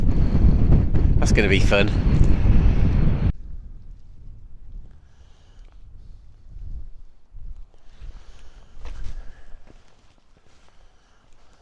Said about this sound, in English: the wind is really picking up now